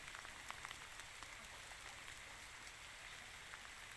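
Rain falling steadily on trees and fruit plants outdoors, a soft constant patter with scattered drip clicks, fairly quiet and even throughout with no talking.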